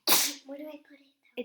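A single loud sneeze bursts out at the start during a chat about ironing a still-wrinkled shirt, followed by a voice speaking briefly.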